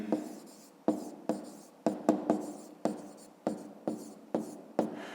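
Numbers for a fifth-grade maths exercise are written by hand, about a dozen sharp, close strokes and taps in an uneven rhythm, each fading quickly, in a quiet room without talk.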